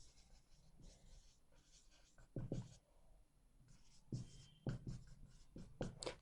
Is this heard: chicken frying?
no